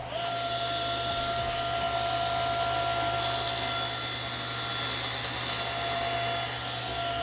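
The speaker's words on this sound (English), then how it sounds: "we take your board over to the sled, the table saw with the sled, and I'm gonna just trim off the end to get it squared up" A table saw with a sled trims the end off a wooden board, the motor humming steadily while a harsher, brighter cutting whine rises for a few seconds as the blade passes through the wood, then fades back to the motor's drone.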